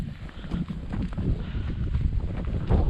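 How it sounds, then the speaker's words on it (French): Steady wind buffets the microphone on a mountain ridge, a continuous low rushing roar with gusty swells, close and fairly loud, no voices. "Et ben, il y a du vent."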